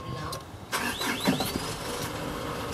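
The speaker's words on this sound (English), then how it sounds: "The unit starts up." A 2016 Isuzu NQR truck engine cranks and catches, a sudden loud onset followed by a steady running rumble, with a voice audible over the engine noise.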